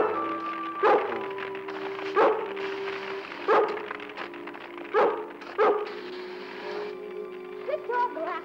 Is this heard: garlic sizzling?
no